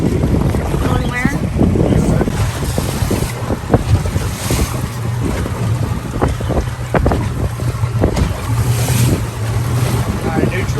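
A motorboat runs steadily on open water during a Florida tarpon fishing trip, its low engine drone mixing with heavy wind buffeting and splashing waves, loud and continuous, while people speak now and then beneath the noise.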